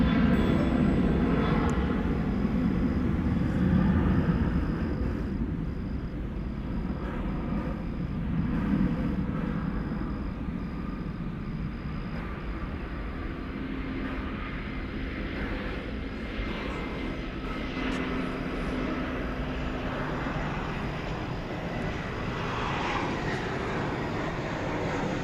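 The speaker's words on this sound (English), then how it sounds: "Another Frontier jet is on the horizon." A Frontier Airlines jet arriving from Baltimore approaches DFW Airport at night, its engines making a continuous broad rumbling roar that stays loud and fairly steady throughout, with no voices.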